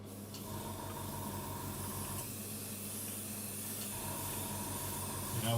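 An airbrush sprays neat, unthinned varnish in a steady, quiet hiss that runs almost unbroken. A faint tone rises and falls beneath it, and the hiss swells slightly at the very end.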